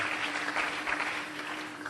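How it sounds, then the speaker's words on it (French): A church congregation applauding during a sermon, a dense, steady wash of many hands clapping at moderate distance, sustained for the whole short stretch with a faint hum beneath. "Acclamons très fort pour le corps"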